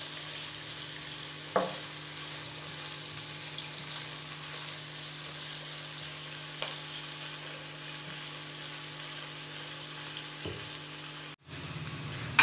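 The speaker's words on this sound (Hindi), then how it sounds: "अब हम प्याज को हल्का ब्राउन होने तक फ्राई करेंगे अच्छे से" Onions frying in a pan until light brown: a steady, fairly quiet sizzle continues throughout, with a couple of faint stirring or scraping knocks and a brief handling noise near the end.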